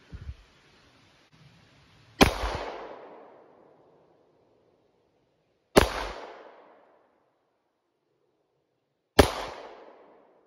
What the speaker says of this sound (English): Got us a couple guns to shoot. This one's here's a Colt Commander in 9mm.